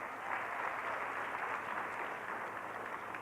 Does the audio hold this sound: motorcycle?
no